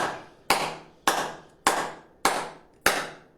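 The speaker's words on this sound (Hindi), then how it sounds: "तालियां बजाएं, रोग को भगाएं" Six loud, sharp hand claps ring out at an even, slow rhythm, each with a short decaying echo, as part of a clapping exercise for health.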